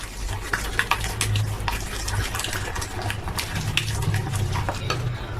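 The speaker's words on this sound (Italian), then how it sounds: "Aggiungiamo lo zucchero ai nostri tuorli, giriamo subito altrimenti granisce." A whisk or spoon stirs sugar into egg yolks in a bowl while making a custard for a Torta Diplomatica, producing continuous scraping and clinking with a low kitchen hum underneath, no talking.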